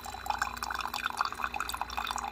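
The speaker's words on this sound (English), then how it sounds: "it's starting to put the water through the filter basket. The water's starting to drip out." Coffee drips from the filter basket of a Sboly single-serve drip coffee maker into a mug, a rapid, close patter of small droplets that continues steadily and alone.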